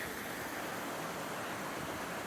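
A creek above a mountain lake in Sequoia and Kings Canyon rushes in a dense, even hiss of flowing water, steady and fairly close, with no voices.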